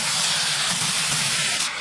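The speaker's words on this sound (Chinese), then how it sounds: "鸭腿上的油脂较多，所以多煎一会儿" Duck legs fry in hot oil to render their fat, a steady loud hiss and sizzle running continuously without pause, with no voices over it.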